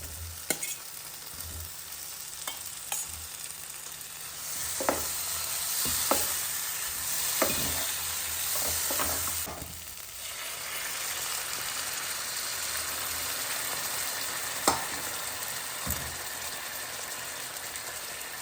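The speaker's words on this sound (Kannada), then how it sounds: "ಹೀಗೆ ಒಂದು ಸರ್ತಿ ಚೆನ್ನಾಗಿ ಕೈ ಆಡಿ" Drumstick curry with coriander powder sizzling and being stirred in a pan, a continuous frying hiss broken by repeated scraping strokes of a spoon, close and steady throughout.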